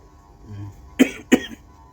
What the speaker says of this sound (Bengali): আবার কাশি কেন